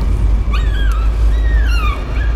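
A dog in the horror video game Layers of Fear lets out high, sliding whimpers and yips, several short cries in quick succession over a loud, low rumble.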